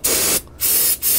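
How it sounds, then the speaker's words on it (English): O'Reilly brake parts cleaner sprays onto a car's front brake slide in two loud, close hissing bursts separated by a short pause. "Have O'Reilly brake parts cleaner. Spray right there."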